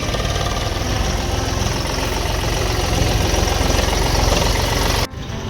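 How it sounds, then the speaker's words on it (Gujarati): A village tractor engine runs loud and close, a dense steady rumble with knocking vibration held for several seconds before a brief dip at the end. "તો આ છે પોપટભાઈનું ટ્રેક્ટર"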